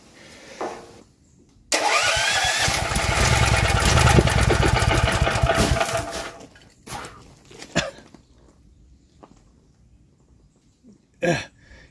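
A junked generator engine is cranked and fires up, running loudly for about four seconds before dying away, followed by scattered clunks and handling noises at close range.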